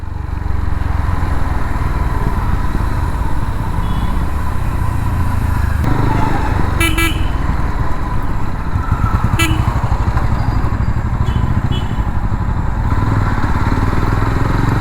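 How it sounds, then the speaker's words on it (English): A Jawa 42 FJ 350 motorcycle rolls along in third gear at about 15-16 kph with a smooth, steady low-speed engine drone and a few brief traffic sounds or horns. The engine is loud and close throughout, with no talking. "Still in third gear, 15-16 kph, and bike pulls neatly without hesitation."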